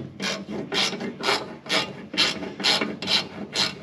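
Screws being backed out of the burner manifold on a small garage heater, eight evenly spaced scraping, ratcheting strokes in a steady rhythm, close and fairly quiet, no talk.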